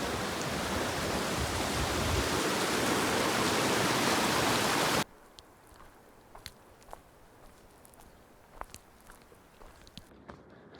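Flowing river water at a hiking-trail crossing, a loud, close, broadband rush that stops abruptly halfway, followed by quiet with scattered footsteps and clicks.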